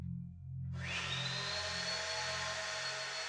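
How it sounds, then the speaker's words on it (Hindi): A vacuum cleaner runs late at night, starting abruptly under a low hum and then droning steadily and fairly loudly with a high whine, alone without talk. "वैक्यूम चला रहे हैं, वो भी इतनी देर रात को।"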